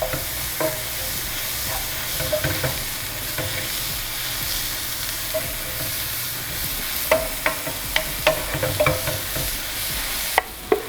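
Garlic sizzles in a hot pan with a constant frying hiss, joined near the end by a run of sharp scraping clicks as it is stirred.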